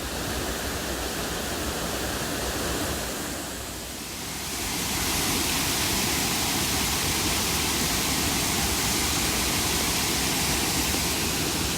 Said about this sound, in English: I think it's just lovely to revel in the power of the water that's crashing down around me